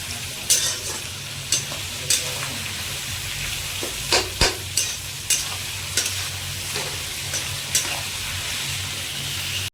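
Chopped onions sizzle steadily in a hot, salted pan for a mutton masala curry, with a spatula scraping and stirring at irregular intervals over the constant frying hiss.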